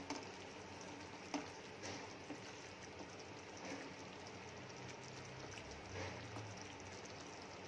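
A spoon stirs egg curry with cumin powder in a pan, with a continuous soft sizzle and scraping and occasional light knocks, close and steady with no talking.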